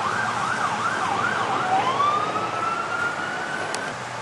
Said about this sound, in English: This ambulance is moving down.